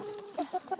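A hen clucks a few short, close calls over quiet background hiss in a home garden with a vegetable patch.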